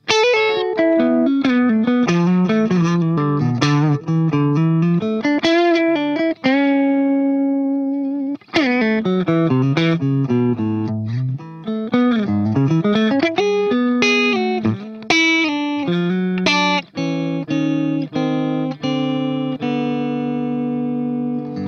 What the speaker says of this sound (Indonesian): suara dari kombinasi pickup bridge-nya